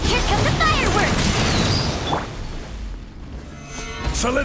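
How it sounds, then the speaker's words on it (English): Fireworks skill explosions in a video game: a dense run of popping bursts, crashes and whooshes erupts loudly at first, fades into a quieter stretch, then bursts back near the end, mixed with in-game character voices. "Here come the fireworks!"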